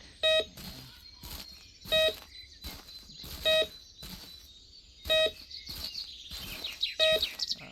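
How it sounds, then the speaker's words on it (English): A metal detector used for gold hunting gives five clear, evenly spaced electronic beeps about every second and a half, with faint rustling and soft chirps between them. "we're just going to follow the beeps."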